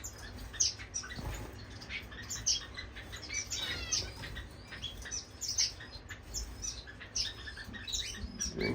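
Pet finches chirp in a bird room, a busy mix of high tweets and short calls from several birds nearby, with occasional wing flutters and rustling over a low background hum.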